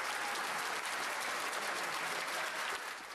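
Steady, sustained applause from a crowd in parliament, dense clapping filling the whole stretch and easing slightly at the end.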